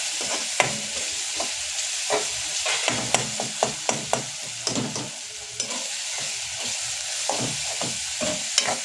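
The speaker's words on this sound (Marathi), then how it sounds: "त्याच्यात आपण कोथिंबीर आणि कोकम ॲड करूया. ह्याला पण परतून घेऊया चांगल्यापैकी." Coriander and kokum sautéing in a pan for a Maharashtrian bamboo shoot and prawn dish, a steady close sizzle broken by frequent sharp clicks and scrapes of stirring, with no voices.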